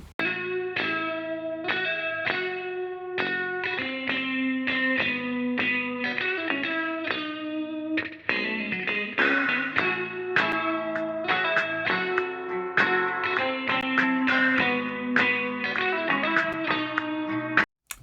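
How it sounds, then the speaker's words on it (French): An indie song with heavily reverberated guitars plays through a vintage console emulation, steady chiming guitar notes and chords carrying on throughout without any voice. "on va écouter sur un morceau un peu indie avec des guitares assez réverbérées"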